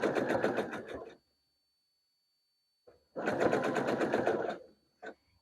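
A sewing machine stitching a vintage-style poof-sleeve girl's dress runs in two bursts of rapid, steady mechanical chatter, about a second then over a second long, separated by quiet, with a brief final whir.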